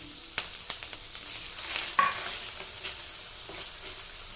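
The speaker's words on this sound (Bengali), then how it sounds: "মশলাটা আমি আবারও 30 থেকে 40 সেকেন্ড কষিয়ে নিয়েছি" A spice paste of dry chili powder and turmeric mixed with water fries in a pan for a vegetarian festival thali, giving a soft, close, continuous sizzle with a few light stirring taps and one sharp spit near the middle.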